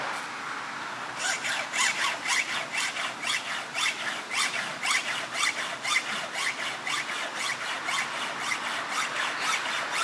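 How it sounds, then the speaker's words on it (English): Rhythmic rasping of a hand file sharpening chainsaw chain teeth, a steady series of even back-and-forth strokes, close and fairly loud with a metallic squeal. "I actually like to hand file on my chains, on my saws"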